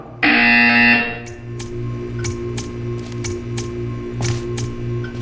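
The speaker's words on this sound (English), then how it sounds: "You will hear a buzzer. When you hear the buzzer, stare at the art." A harsh electronic buzzer in Portal 2 blares for about a second, followed by a low hum with scattered clicks and taps.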